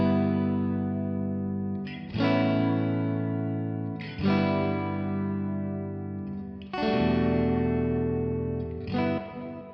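Sustained electric guitar chords ring out through spring reverb, studio reverb and delay, four strummed hits spaced a couple of seconds apart, each decaying into a wash of echo.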